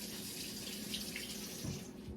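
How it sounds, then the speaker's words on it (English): A spoon rinsed under a running kitchen tap, a steady, fairly faint stream of water splashing into a sink with a slight shift in tone near the end. "Now, need to rinse my spoon."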